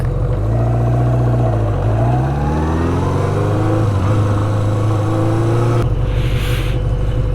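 A car drives up toward a visitor center, its engine humming steadily and close with slight rises in revs before the sound shifts near the end.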